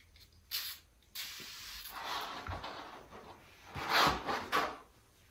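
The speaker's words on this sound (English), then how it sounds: "shake it for a minute, spray it on, wipe it off, it says" Trim prep cleaner is sprayed onto a 300ZX's interior trim in a few short, close hissing bursts, mixed with faint handling clicks and rustles in a quiet room.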